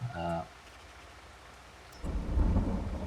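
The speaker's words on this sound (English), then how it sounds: "it just started raining as well" Steady rain patters in the video game Farming Simulator 22 while a low rumble of thunder rolls in near the end, growing louder over the final second.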